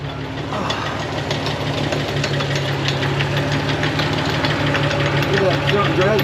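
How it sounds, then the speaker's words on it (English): A 2000 Jeep TJ Sport in four-wheel low, third gear, runs with a ruined front double cardan joint, a steady engine hum overlaid by continuous rhythmic knocking and clattering from the front drivetrain. "Everything's turning, and there's some definite noise"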